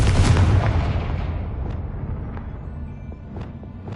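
A Confringo spell explosion in Hogwarts Legacy bursts loudly at the start and rolls away in a long fading rumble, with a few faint sharp pops and crackles trailing off afterward.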